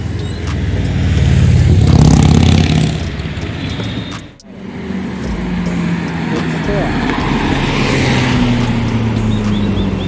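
A Kawasaki Ninja Z900 motorcycle approaching on a road, its engine note swelling loud and steady amid traffic noise and music, with a brief dip before building again; people talk over it.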